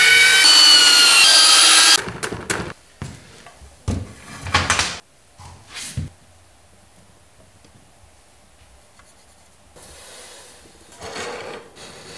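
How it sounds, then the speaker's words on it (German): A power drill with a mixing paddle stirs tile adhesive in a bucket, whirring loudly for about two seconds. Short knocks and scraping follow, then quieter handling noises. "Fliesenkleber anrühren."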